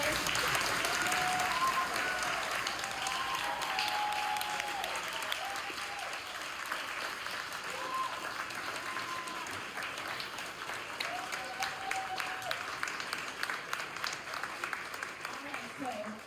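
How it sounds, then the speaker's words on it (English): A crowd at a book event with bestselling authors applauds steadily, loud at first and then slowly thinning, with some voices and cheers mixed into the dense clapping. "Let's give another round of applause for Clay"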